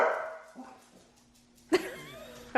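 A German Shepherd and a Yorkie, eager to go outside, give a few sharp barks and yips at home, spaced out with quiet gaps, then a louder burst of close barking near the end.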